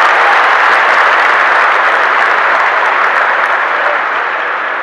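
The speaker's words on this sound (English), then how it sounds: "So give them a big round of applause." A large audience of troops and civilians at Bagram Air Field in Afghanistan gives loud, sustained applause, a dense uninterrupted roar of clapping that stays strong across the whole stretch and eases only slightly at the end.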